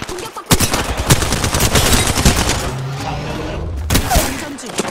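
Rapid automatic gunfire in an Apex Legends firefight, with Flatline and Hemlok rifles in play; loud, close bursts of dense rattling shots fill nearly the whole stretch, broken by a brief pause before another volley.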